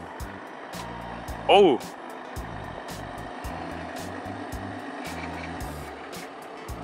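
A Genesis GV80 SUV manoeuvres itself with remote smart parking assist, sounding repeated short bursts of warning beeps over a faint low motor hum. A person gives one brief exclamation partway through.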